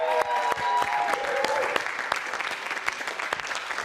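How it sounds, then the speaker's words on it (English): An audience gives a round of applause for two performers at a retail staff talent show, broad steady clapping filling the room with sharp individual claps standing out, starting loud and easing slightly toward the end. "Ladies and gentlemen, put your hands together. Give them a round of applause"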